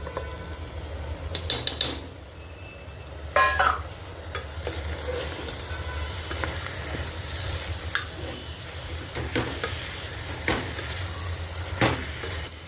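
Drumstick (moringa) pulp tipped into a hot tempering pan, with steady sizzling and stirring clatters throughout, a few sharper scrapes and utensil knocks against the pan, close and moderately loud.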